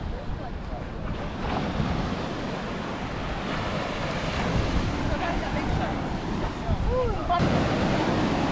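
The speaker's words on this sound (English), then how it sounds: "we just pulled up to the beach" Waves washing onto a beach where an airboat has pulled up, heard as a continuous broadband wash with strong wind noise buffeting the microphone throughout.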